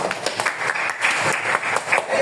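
Students clap together during a classroom clapping game, a busy, close burst of many hands with slightly uneven rhythm, steady in loudness for a couple of seconds.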